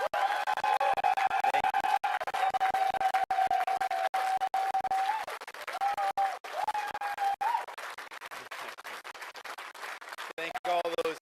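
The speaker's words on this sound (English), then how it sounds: "we can give a round of applause to Brandon for us." An audience applauds at a Brampton federal election 2025 event, giving a dense, sustained clatter of clapping and crowd noise with a steady tonal hum running underneath.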